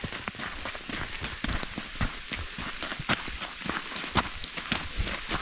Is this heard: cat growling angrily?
no